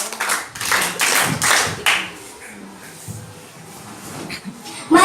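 An audience at a school class debate claps in short bursts that rise and fall, then thins to a murmur and shuffling. Near the end there is a louder knock or scrape.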